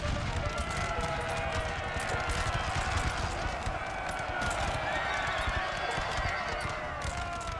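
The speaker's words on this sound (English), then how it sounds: "We've got some hussars charging in." Hussar cavalry charge in Napoleon Total War, a dense, continuous rumble of many galloping hooves with mixed neighing and battlefield noise, loud and unbroken throughout.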